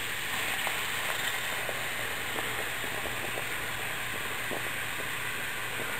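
Water at a rolling boil in a container over a coal fire outdoors, giving a steady hissing bubbling roar with faint pops, constant throughout and without talk.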